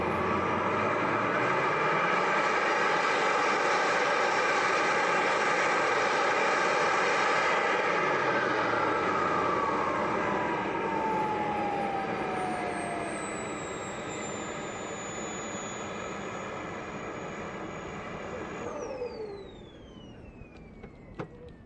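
Loud, steady roar of an Avro Vulcan's jet engines running up close during an RPM check at RAF Elvington, with a whining tone that sweeps down as the engines spool down near the end.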